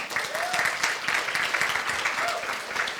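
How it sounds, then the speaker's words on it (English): A crowd applauds with a steady patter of many hands clapping, sustained throughout and moderately loud, with faint voices mixed in. "Okay, you clap."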